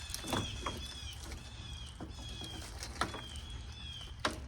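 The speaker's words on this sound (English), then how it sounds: "I don't know if those birds are screaming at me or something else." Faint, high bird calls sound repeatedly in the background, with occasional soft clicks and light rustling nearby.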